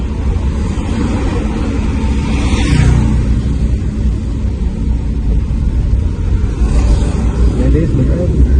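A car engine runs with the accelerator held down and the clutch used during a beginner driving lesson, a loud steady low rumble that continues under people talking.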